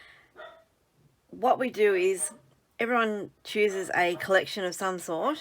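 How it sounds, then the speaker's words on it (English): A dog barks in the background of a room while someone talks steadily over it, the yaps short and partly buried under her voice. "Apologies for the dog."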